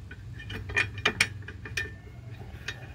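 Ratchet wrench tightening 18 millimeter brake bracket fasteners on a 1999-2004 Jeep Grand Cherokee WJ, a few quick bursts of close clicking pawl, quiet between bursts.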